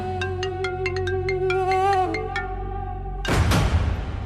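A mobile phone ringtone for an incoming call plays a repeating melodic pattern of bright beeps, loud and close, then stops abruptly and gives way to rustling handling noise.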